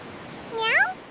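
A cat gives a single rising-then-falling meow, clear and close, lasting under half a second over quiet background.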